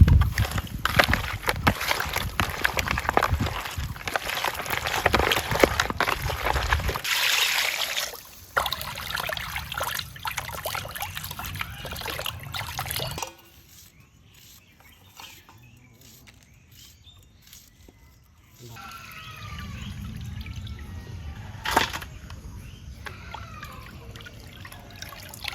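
River pangas fish is being washed in water, with splashing, trickling and dripping that comes and goes, dropping to near silence in the middle before quieter water sounds return.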